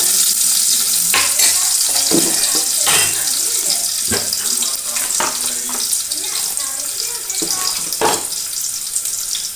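Crushed ginger, garlic and shallots go into hot oil in a frying pan, giving a loud, continuous sizzle broken by several sharp stirring and scraping knocks.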